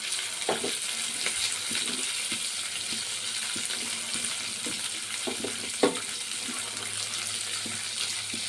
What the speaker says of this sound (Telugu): ఉల్లిపాయ ముక్కలు కాస్త వేయించుకుందామండి ఆయిల్లో.